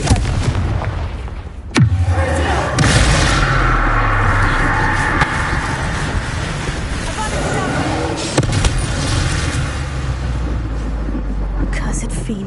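The Confringo blasting curse explodes in Hogwarts Legacy, giving a sharp, loud boom followed by a rumbling tail. A second blast comes later amid ongoing game noise, and a voice speaks over it.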